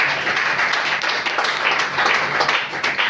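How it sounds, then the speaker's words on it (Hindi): Loud, steady clapping from an audience at a business meeting event in Meerut, many hands beating together continuously with no pauses throughout. "इसके लिए तालियां बजाएं।"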